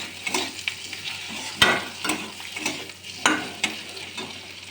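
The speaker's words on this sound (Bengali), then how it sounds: "সে পনিরটাকে দিয়ে একটু আলুটা নেড়ে চেড়ে নেব" Potato and paneer masala is stirred in a pan, with repeated spoon scrapes and knocks over a soft continuous sizzle, close and fairly quiet.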